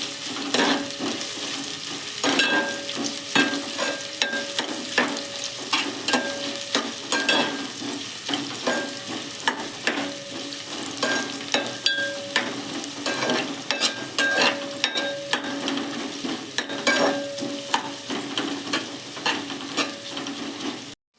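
Onions frying over a low flame in a pan, a steady close sizzle broken by frequent scraping stirs and utensil clinks for about twenty seconds, with no voices.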